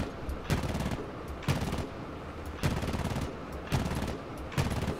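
Machine gun fire in the tank game War Thunder, five short, evenly spaced bursts of rapid rattling shots, each about a second apart, over a low engine drone.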